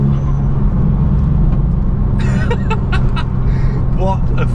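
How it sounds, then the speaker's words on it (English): Volkswagen Scirocco R with overrun mapped in, its engine droning loudly with sharp crackles and pops bursting out in quick clusters near the end. "someone's definitely mapped overrun into it because it flames like mad and"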